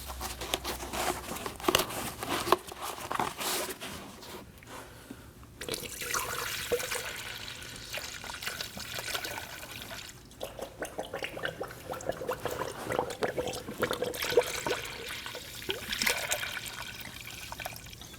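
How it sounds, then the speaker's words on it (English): Coolant pouring through a funnel into the radiator of a 2011-2016 Kia Optima 2.4L, heard as a continuous close trickle and gurgle with occasional splashy surges. "go ahead and fill in your radiator."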